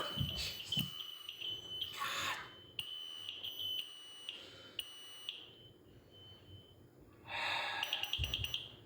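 A high, piercing carbon monoxide alarm tone sounds steadily and faintly during a test, with breathing, shuffling and a louder burst of noise near the end.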